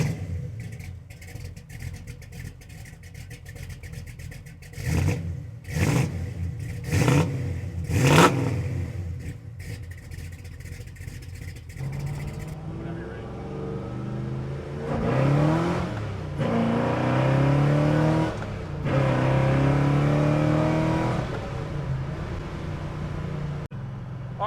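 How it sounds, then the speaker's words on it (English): A 1970 Chevrolet Chevelle SS V8 rumbles while driving, with several sharp revving bursts early on, then a steady, loud cruising drone with rising and falling engine pitch as it accelerates through gears. "we're out cruising in the 70 Chevelle"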